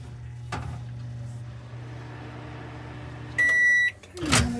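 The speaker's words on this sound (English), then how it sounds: "this is going into the oven, 375 for 9 to 10 minutes on that." A kitchen oven being set to 375 degrees for baking vegan snickerdoodle cookies gives a close, clear electronic beep of about half a second, followed by a soft thump, over steady low appliance hum.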